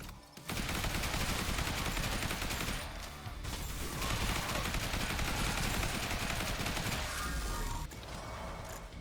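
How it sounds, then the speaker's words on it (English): Sustained automatic assault rifle fire in the zombie shooter game Zombie Survivors, a dense, continuous stream of rapid shots that barely lets up across the whole stretch, with brief dips in intensity. "Let's see if they can keep up with this assault rifle."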